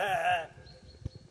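A sheep by the roadside along the Camino Francés pilgrimage route gives one clear bleat, followed by quiet outdoor background with faint low thumps.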